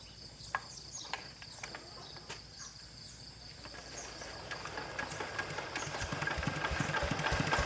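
An engine runs during an engine and gearbox test, a low rumble that grows steadily louder over several seconds, with chirping insects in the background.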